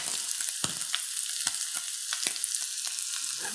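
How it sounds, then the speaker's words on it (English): Salmon chunks and dill being stirred into eggs in a hot pan, with a low sizzle and repeated scraping strokes of a utensil at a gentle, uneven rhythm, close and with no voices. "we're just gonna stir this gently to combine"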